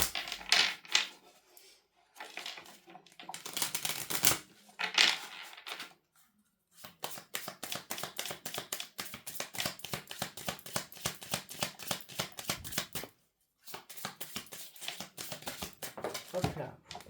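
Tarot cards are shuffled close by in rapid, crisp riffling bursts with brief pauses between rounds, and a voice speaks at times.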